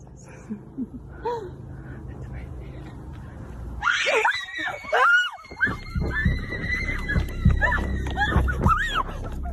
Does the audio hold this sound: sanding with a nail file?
no